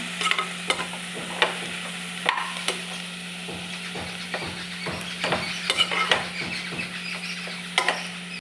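Mint leaves and masala frying in a pan for mutton gravy, a soft sizzle under repeated clinks and scrapes of a spoon against the pan, with a steady low hum behind it and no speech.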